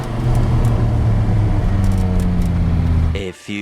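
Dodge Viper RT/10 with Belanger exhaust pulling in second gear, a loud deep droning exhaust roar heard from inside the car, cutting off sharply near the end with a brief gear change.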